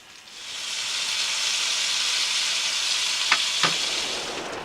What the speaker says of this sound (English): So I'm going to take these and put them in the oil. Let them brown a bit.